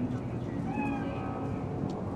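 Cat in the video game Cyberpunk 2077 gives one drawn-out, wavering meow over a low background hum, moderately close and clear.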